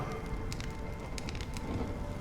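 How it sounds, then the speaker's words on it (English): Rain pours down in the video game Honkai Star Rail, a steady, moderately loud patter and hiss with faint crackling drops scattered through it, no voices. "When will this rain ever stop?"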